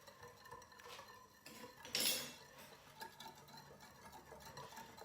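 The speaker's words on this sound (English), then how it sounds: "And you want to mash that up" Nam Yue fermented bean curd is mashed into a Chinese cha siu pork marinade with sugar and five-spice, giving faint scraping and clinking of a utensil against a bowl, with one louder scrape midway.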